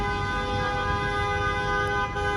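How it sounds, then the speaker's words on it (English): Car horns in Manhattan street traffic along Bleecker Street, a steady blaring tone that holds through the whole stretch over a constant city rumble, loud and unbroken with no talk. "with the beautiful sounds of honking from angry New Yorkers"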